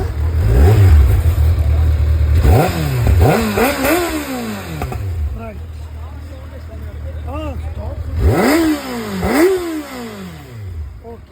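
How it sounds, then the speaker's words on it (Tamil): A Kawasaki ZX-6R 600cc sport bike on its stock exhaust revs repeatedly, loud rising and falling engine sweeps over a steady idle rumble, close by, with a voice talking at times. "Kawasaki ZX 6R னுடைய exhaust note, stock exhaust note கேளுங்க."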